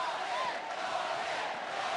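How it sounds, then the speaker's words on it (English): Arena crowd at a professional boxing title fight cheers and chants steadily, a dense, continuous roar of many voices at moderate loudness with faint commentary mixed underneath. "And the crowd cheering on Donnie, shouting Donnie, Donnie, trying to re-energize the champion."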